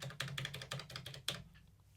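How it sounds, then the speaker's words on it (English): Buttons and knobs on a Nord Stage 4 keyboard being pressed in a quick run of about eight crisp plastic clicks, close and fairly quiet, ending in a last sharper click. "Every knob that you press, it just sounds good."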